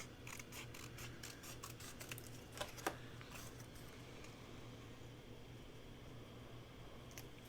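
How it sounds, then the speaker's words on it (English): Scissors snip through a Christmas card in a quick burst of short, crisp cuts near the start, with a couple of sharper clicks, then quiet room tone with a steady low hum. "I'm going to cut just a little bit more off of it."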